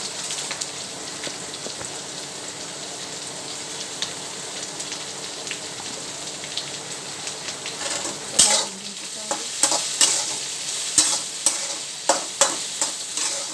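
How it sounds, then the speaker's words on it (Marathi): Okra frying in a pan with turmeric and salt, a steady close sizzle throughout with sharper stirring scrapes and clicks growing in the second half; no talking. "चांगलं भाजून घ्यायचं हे मीठ टाकून"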